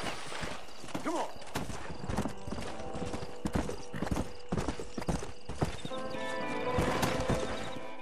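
Horse hooves clip-clop in Red Dead Redemption, an uneven run of sharp close hoof strikes with a whinny near the start and other game sounds under them.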